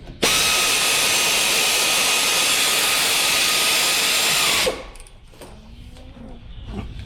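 A power tool tightens a brake bolt during a front brake job on a Ram Promaster 3500, whirring loud and steady for about four and a half seconds before cutting off into quiet workshop clatter.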